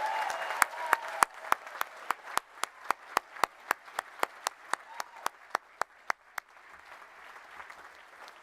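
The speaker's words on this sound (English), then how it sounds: "if we could have a final round of applause for all of those who've just processed" A University of West London graduation audience applauds the procession, with one close clapper beating crisp, evenly spaced loud claps over a softer crowd wash that thins out and fades near the end.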